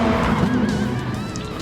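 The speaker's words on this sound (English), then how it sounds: "the grunt of some of the V8s, pardon me, and V10s, or V12s I should say, certainly come to the fore on this track" V8, V10 and V12 race car engines in an eSports racing game, a continuous loud engine drone with rising and falling pitch and tyre squeal, close and alone.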